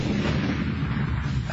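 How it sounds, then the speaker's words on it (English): A big explosion sound effect, a dense, loud roaring boom that fills the whole stretch without any voices. "A big explosion."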